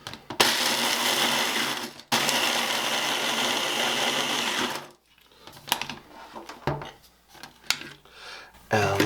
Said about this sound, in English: I'm going to blast these a little bit until I get fine crumbs